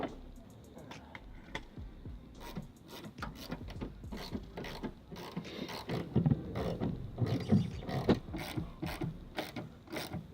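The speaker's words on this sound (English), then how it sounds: "So now what I'm going to do is pull the strut bolts." A wrench works the strut bolts on a car during a strut bar install, giving quick metallic ratcheting clicks in irregular bursts. The clicks come close up and grow denser and louder toward the middle and end.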